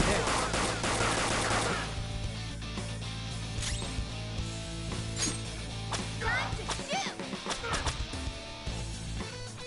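Rapid gunfire in the Persona 5 Royal video game: a dense burst of shots up front, then scattered cracks and effects over game sound, with a voice talking.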